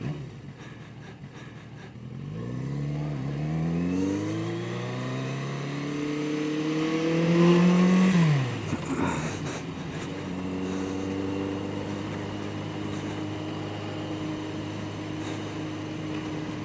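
A Yamaha 750 Seca motorcycle engine while riding, rising in pitch through several gears, then dropping and settling into a steady cruising drone, close and moderately loud with no talking.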